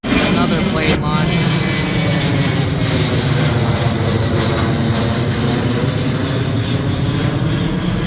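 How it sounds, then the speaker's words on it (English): Airplane engine roar from a plane launching near an airport road, a loud broadband rumble sustained throughout with people talking over it. "Another plane launch."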